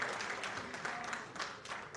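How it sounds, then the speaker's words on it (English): Crowd applause at a club anniversary convention in Lagos, a steady wash of many hands clapping at moderate volume with no voices on top. "Please let's give her a big round of applause as well."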